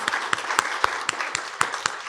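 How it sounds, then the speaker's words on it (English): An audience at a commemoration event for the International Day for the Elimination of Racial Discrimination applauds a prize winner with brisk, continuous clapping and regular accented beats, close and steady throughout. "A round of applause for Anaya"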